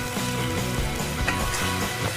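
Yakhni broth poured into dal frying in a pot hisses and sizzles loudly, with stirring scrapes and bubbling under a dense, continuous crackle, no talking.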